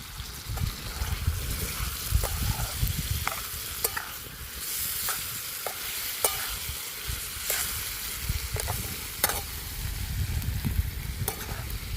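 Fish frying in a pan with cooked onion and spices, a close steady sizzle with repeated scraping stirs and clinks of a spoon against the pan.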